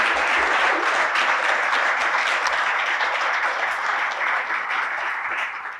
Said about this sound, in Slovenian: Sem prepričana, da boste tudi njima glasno zaploskali.